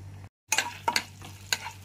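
Chopped garlic frying in melted butter in a wok, heard as a few short bursts of sizzling and stirring scrapes after a brief silence, close and moderately loud.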